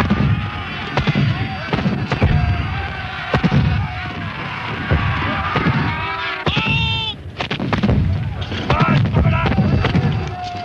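Cannon fire at the Battle of Culloden comes as repeated heavy booms over windy battlefield noise, with a narrator speaking throughout.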